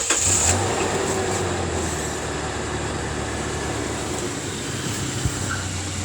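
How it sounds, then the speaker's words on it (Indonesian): A 2009 Toyota Fortuner facelift idles steadily nearby, giving an even, quiet engine hum with a low drone and no revving or speech. "Ini kita dengerin suara mesinnya ya."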